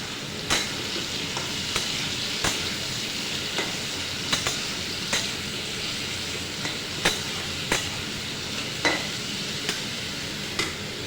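Fish and ridge gourd sizzle steadily in a hot pan while a spatula stirs them, scraping the metal at a regular rhythm every second or so, close and moderately loud with no talking.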